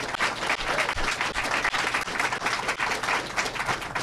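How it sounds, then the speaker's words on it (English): Audience applause after a performance by a Native drum group at a mayoral housing announcement, a dense, steady wash of many hands clapping throughout, loud and close with no talk over it. "A round of applause one more time,"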